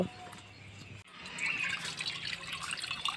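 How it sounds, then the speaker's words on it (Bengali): Water is poured into a kadai to half-boil new potatoes, a quiet moment broken by a sudden rising, splashing rush of liquid that keeps flowing steadily to the end. "কড়ার মধ্যে আমি জল দিয়ে দিচ্ছি নতুন আলুটা হাফ সিদ্ধ করার জন্য।"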